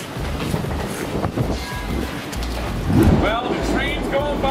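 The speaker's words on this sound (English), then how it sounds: "the train's going by" Elevated L train rumbling overhead on its tracks at a hot dog stand beneath the line, a loud continuous roar with screeching wheel squeals toward the end, steady throughout.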